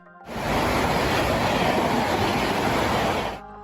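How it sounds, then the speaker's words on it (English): A fast train rushes past in the rain, a loud, dense roar of wheels and wind-driven spray that swells in abruptly, holds steady for about three seconds, then drops away. "When a train moves fast, it creates a powerful airflow that breaks raindrops into the tiniest spray, picks them up, and twists them into vortices"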